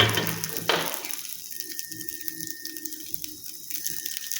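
Chopped onion tossed in a little oil with butter and ghee gives a soft, steady sizzle after a brief louder clatter at the start, continuing faintly and evenly without talk.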